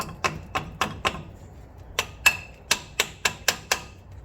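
Repeated sharp metallic taps from an improvised tool knocking a dust cap into a wheel hub during a disc brake rotor job on a 1974 car, about a dozen strikes in two quick rhythmic runs with a short pause, close and crisp.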